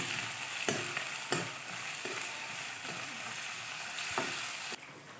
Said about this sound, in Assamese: পিঁয়াজ, নহৰু আদা পেষ্ট অকণমান লৰাই ল'লোঁ।